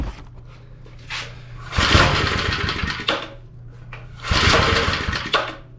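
A lawn edger engine sputters and fails to catch, giving two bursts of rough, uneven firing with a steady low hum beneath, close and moderately loud.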